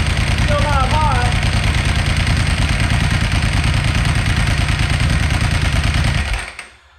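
Engine idling steadily after a cold start, a loud continuous low rumble with slight clatter that runs unbroken for about six seconds before cutting off abruptly into silence.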